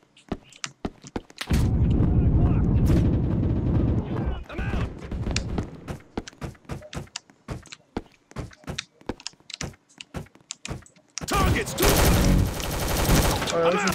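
Rapid gunfire bursts from the Roblox shooter Recoil, with sustained automatic fire near the start and end and scattered single shots and taps in between, loud and close.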